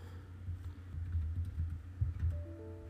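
Someone types a date into an Excel worksheet on a computer keyboard, a quick run of close, soft key clicks in an irregular rhythm lasting a few seconds.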